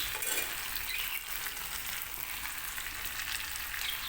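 Food fries in a pan with a steady, soft hiss and sizzle throughout, close and quiet, with faint stirring.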